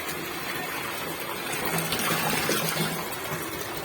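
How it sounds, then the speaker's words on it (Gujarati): Tap water gushes steadily into a tub where children are bathing at home, a continuous close, dense rush of water without pause and no talking. "જો નળ આવે છે."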